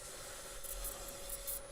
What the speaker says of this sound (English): Everybody's favorite part, the sanding.